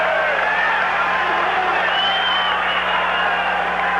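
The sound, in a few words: basketball crowd cheering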